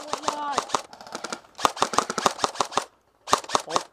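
Airsoft guns fire toward a wood line in rapid sharp cracks, bursts of quick shots separated by brief pauses, close and loud with no talk.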